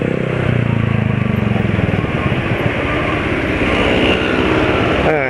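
A motorcycle engine idles steadily at a small throttle opening, a close and continuous low rumble with a faint rhythmic pulse and no change in pitch.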